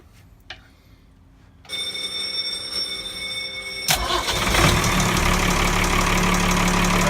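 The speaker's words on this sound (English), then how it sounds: "you will notice there is an alarm. The alarms do work on it." A steady electronic engine control alarm tone beeps, then a 120 hp Ford Lehman marine diesel engine cranks and starts, settling into a loud, rough idle with the alarm continuing underneath.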